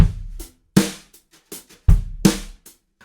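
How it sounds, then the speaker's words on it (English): A drum groove from a sample library, with punchy kick and snare hits alternating in a steady repeating pattern and crisp cymbal or hi-hat accents, loud and dry with no voices. "I went through my library and I picked out a cool drum groove"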